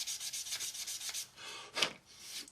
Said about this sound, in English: we can just use our sanding sponges just to tidy them up just a little bit.